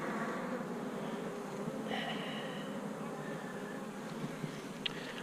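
Honeybees at a hive entrance carry yellow-orange pollen, making a steady, close, moderately loud buzzing drone throughout, with a few brief louder passes near the end.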